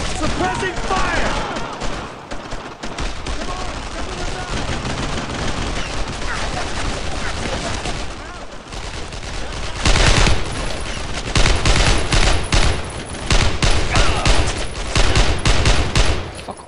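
Suppressing gunfire fills a World War II squad battle in the video game Brothers In Arms: Road to Hill 30, with sustained rifle and machine-gun bursts and loud volleys near the end, some voices shouting over it.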